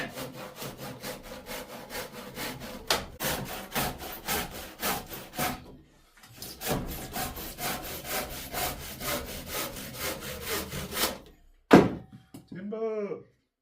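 A handsaw trims the end off a staircase timber in fast, even strokes close by. A brief pause splits the cutting, then a sharp knock as the offcut drops. A short voice sounds at the very end.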